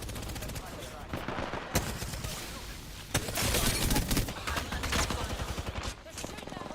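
G7 Scout rifle fire in Apex Legends, quick repeated shots crackling close and loud, mixed with other gunfire in the fight and rising into heavier bursts partway through.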